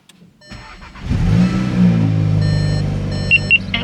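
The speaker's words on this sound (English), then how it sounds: "And so we'll start the car." A Volkswagen MK7 GLI engine cranks and fires up close by, settling into a steady idle, with a couple of short electronic dashboard beeps near the end and no one speaking.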